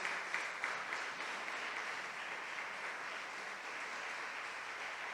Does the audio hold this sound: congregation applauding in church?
yes